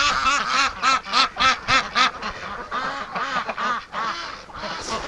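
Breeding ducks outdoors in a snowy setting, calling loudly and continuously in rapid overlapping quacks and chattering bursts, close and very vocal with no talk.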